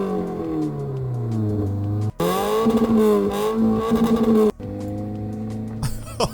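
Mitsubishi Colt with a 1.6 single overhead cam 90-horsepower engine revving nearby in a few bursts, pitch climbing and dropping between throttle blips, with short pauses between revs.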